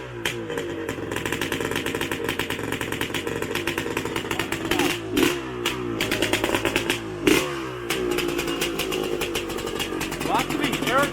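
A 1975 Yamaha MX250B air-cooled motorcycle engine runs close by with a rapid, rattling two-stroke buzz, steady throughout with a few sharp throttle blips.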